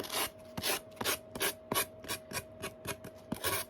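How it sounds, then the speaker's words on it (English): A sanding block rasps back and forth along an edge in steady, quick strokes, close up with a faint steady hum underneath. "But when you do it with a sanding block"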